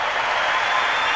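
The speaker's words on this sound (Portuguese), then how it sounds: "Queria pedir uma salva de palmas maravilhosa para Lúcia Helena Galvão" Audience applause for Lúcia Helena Galvão at the close of an interview, with steady, dense clapping that runs loud and unbroken through the short moment.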